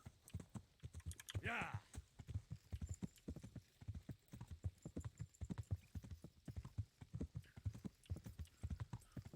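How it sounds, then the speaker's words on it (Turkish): Horse hoofbeats while riding in Kingdom Come: Deliverance, a steady rhythmic clip-clop gait with a brief whinny near the start, faint and even throughout. "Niye atı sürüyorum diye soracak olursanız"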